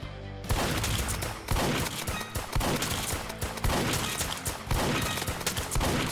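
Rapid, continuous gunfire from the Roblox game Too Many Weapons Simulator, loud and dense, with bursts of shots running almost without pause across the whole stretch.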